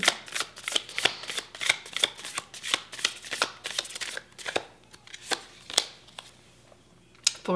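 Tarot cards shuffled by hand in a rapid series of crisp riffling snaps, close and fairly quiet, thinning to a few sparse flicks near the end.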